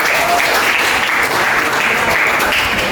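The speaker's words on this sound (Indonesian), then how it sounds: "Beri aplaus pada teman-teman" A room full of people claps loudly and steadily for the full stretch, forming a dense, even wash of applause with no pauses and no talking over it.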